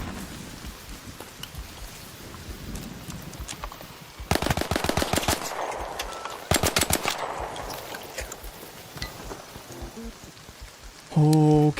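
Bursts of automatic gunfire in the ARC Raiders video game: two loud, rapid volleys in the middle, sharper clatter near the end, over a constant rain-like hiss, with no talking.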